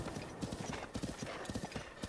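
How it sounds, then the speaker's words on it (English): A horse walks in Zelda: Breath of the Wild, its hooves clip-clopping in a steady rhythmic pattern, close and clear with light game ambience behind. "there's a horse walking and then it disappeared"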